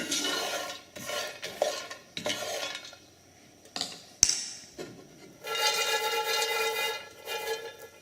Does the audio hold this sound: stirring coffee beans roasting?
yes